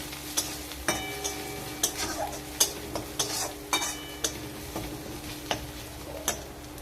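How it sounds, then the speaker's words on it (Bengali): Ground turmeric, chili, cumin and coriander powders are stir-fried in a pan, the spatula tapping and scraping in a steady rhythm of sharp clicks over a soft sizzle, with no one speaking. "এই মশলাগুলো দিয়ে ভালো করে আবারও কষে নেব।"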